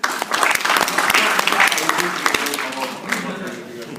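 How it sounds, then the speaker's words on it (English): At a York student entrepreneurs event, an audience claps in a lively burst with some voices mixed in, the applause tapering gradually over a few seconds. "Give them a round of applause."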